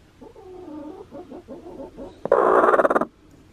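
A broody hen nesting in the eaves of a chicken coop gives a run of soft, low clucks, then one loud, harsh squawk near the end, close up with no talking.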